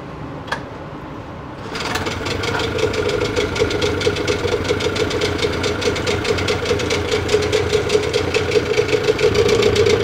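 A Suzuki 9.9/15 two-stroke outboard boat motor starts after a brief pull, then runs steadily with a buzzy, rattling idle close by.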